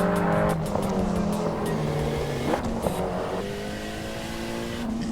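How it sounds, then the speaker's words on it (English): A tuned, turbocharged Mitsubishi Evo 6 drives along a road with its engine droning steadily, the tone rising and falling as it changes speed, and brief sharp bursts come through under the running engine. "the sound of the turbo, the sound of everything as this car is moving along down the road"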